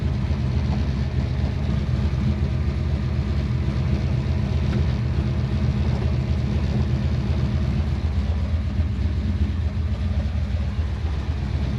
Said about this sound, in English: All right, Chris, we're in the 68 Chevelle. Let's go. This car sounds really, really good.